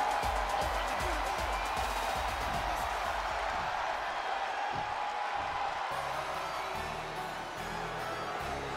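Arena crowd at a televised wrestling event, with a broad sustained roar of cheering and whooping for a wrestler, loud and continuous with no clear break.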